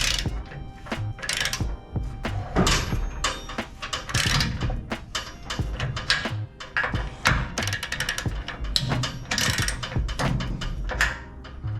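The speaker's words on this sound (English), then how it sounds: "if I tighten this U-bolt down, tighten that bolt down, and then maybe run another bolt right there" A ratchet tightens a U-bolt on a 1437 jon boat trailer, rapid close clicking strokes repeated in bursts with occasional metallic clunks.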